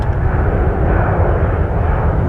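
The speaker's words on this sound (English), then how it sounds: "That's a plane now, if you can hear it." An RAF military plane flying overhead near an RAF base, heard as a loud, steady, low engine roar that fills the whole stretch without a break.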